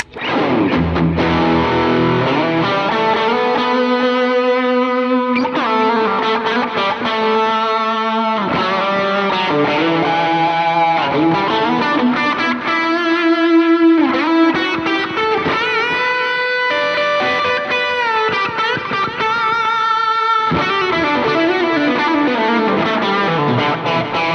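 A heavily distorted electric guitar plays a sustained lead line with bends and held notes, thick with effects, loud and continuous throughout.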